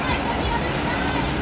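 Rushing water from a small waterfall in The Narrows, Zion National Park, a dense, steady roar heard close up for a brief moment.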